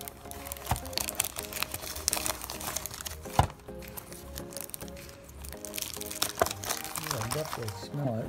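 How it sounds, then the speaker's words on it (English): A cutting knife carves into a bar of deodorant soap, giving soft, close crinkling and scraping strokes with a few sharper crunchy catches. The cuts come in an irregular sequence under quiet room tone. "Cutting the soap."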